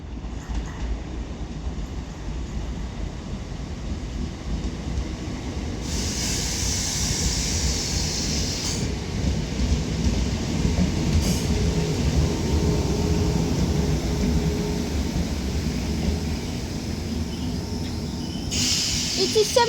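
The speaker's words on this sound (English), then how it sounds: "Arriving in is going to be the 11:12 Northern service to Southport from Staley Bridge with a Class" A Northern Class 769 train, unit 769456, pulls into Salford Central station on the Chat Moss line, a steady rumbling roll with hissing brakes and wheel noise building throughout, heard from the platform.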